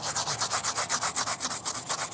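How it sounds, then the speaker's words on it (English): A stiff brass-bristle brush scrubs the raised white letters of a tire on an abandoned Ford F-350, making fast, even back-and-forth rasping strokes, close and loud, with no voices. "I like to use the brass bristle brush just because of the integrity of it and how stiff the bristles are"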